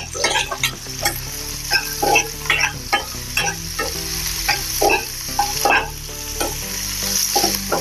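Onions fry in hot oil with cumin and a pinch of asafoetida, a loud, close sizzle with rhythmic scraping bursts from a spoon stirring the pan, with no speech.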